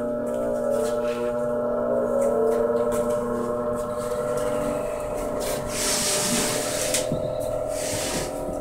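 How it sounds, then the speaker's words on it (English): A two-speed fan in a homemade workshop air scrubber runs with a steady, close whooshing drone and constant airflow noise, with no talking. "fan is blowing, sucking all the air, and just blowing it right out"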